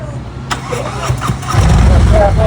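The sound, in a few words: motorcycle engine starting and revving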